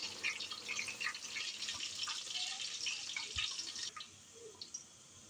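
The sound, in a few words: rice being added into boiling water for matar pulao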